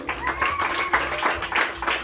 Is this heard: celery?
no